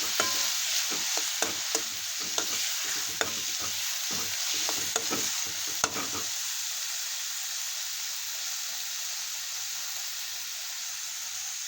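Soaked toor dal sizzles and fries steadily in a pan for a gourd bhaji, with a run of sharp spoon scrapes and clinks from stirring early on, then continuous frying hiss alone.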